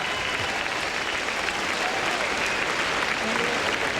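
A huge tennis stadium crowd in Toronto applauds Andre Agassi, producing a dense, steady wash of clapping and cheering that holds at even loudness from start to finish.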